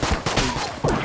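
Bullets fire rapidly in the Enter the Gungeon video game, a dense stream of close, punchy shots in quick succession throughout.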